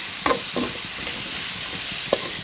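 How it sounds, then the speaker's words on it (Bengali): Potatoes with turmeric and salt fry in oil with a close, steady sizzle, punctuated by a few quick stirring scrapes. "তেলে এখন আলুটা ভেজে নেবে"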